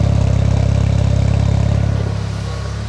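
A Nissan S15 engine running close up, a loud, steady, throbbing idle with a rapid pulsing note that eases slightly lower toward the end.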